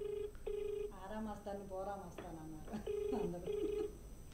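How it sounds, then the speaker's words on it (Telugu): A telephone rings out on a live outgoing call, repeated ring bursts sounding under continuous talk from a speaker throughout. "ఫోన్ రింగ్ అవుతుంది"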